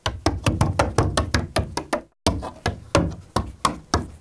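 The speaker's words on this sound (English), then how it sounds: "Goblin claws." Foley for goblin claws performed with banjo picks: rapid, crisp clicking and tapping strikes in quick uneven bursts, one short pause midway, close and fairly loud with no voices.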